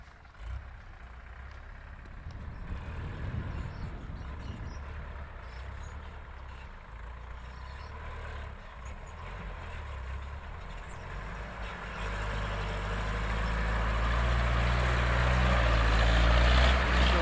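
Truck idling before hauling soybeans from the field to the scale, a low steady engine rumble that grows louder and fuller toward the end, with no talk.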